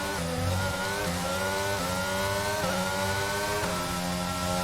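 Race car in the F1 22 game at the Abu Dhabi Grand Prix, its engine whining loudly and steadily as it accelerates, with rising harmonic pitch and quick dips at gear shifts, close and continuous with no talk.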